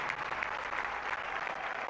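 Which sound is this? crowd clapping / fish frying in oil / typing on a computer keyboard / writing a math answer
crowd clapping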